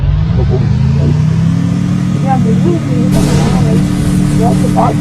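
A vehicle engine droning steadily in the Free Fire video game, loud and continuous, with a sustained low hum under game sounds and brief tonal effects.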